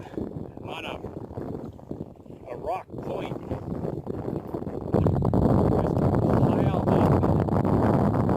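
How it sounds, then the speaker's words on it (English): Gusty wind roars across an open mic on the water while smallmouth bass fishing, growing louder and more constant partway through, while someone talks over the buffeting. "the conditions got pretty windy there on the water"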